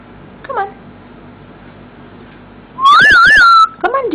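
A pet parrot whistles in a play garden: a short chirpy whistle, then a loud, warbling, rising-and-falling whistle lasting nearly a second, followed by another brief whistle, all close to the listener over a quiet background.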